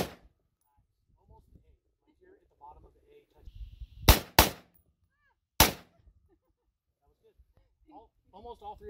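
AR-50 rifle fired at an outdoor shooting range in Southern Utah: three sharp, loud shots, two in quick succession and one a moment later, with quiet talk between them.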